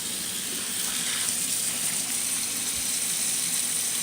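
Water runs steadily from a tap into a sink in a home kitchen, a constant soft gush with no pauses and no talking.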